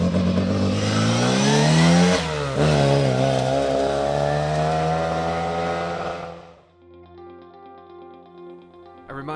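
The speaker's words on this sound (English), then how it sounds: "Wrapping up the Category 1 field through the Pikes Peak stage is the Mini Cooper S of Phil Harris and Alan Walker." A Mini Cooper S rally car competing in the Category 1 class on a Mid Wales forest stage roars loud and close, engine note rising under hard acceleration with a brief lift, then fading abruptly into a distant, quieter hum.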